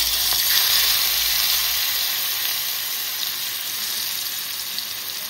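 Crushed garlic, green chilli and coriander hit hot oil in a cooking pot, giving a loud, steady hissing sizzle up close that slowly eases, with no talking.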